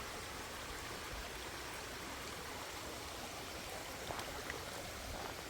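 A stream flowing beside the Appalachian Trail, a constant soft wash of running water, close and steady throughout, with no voices.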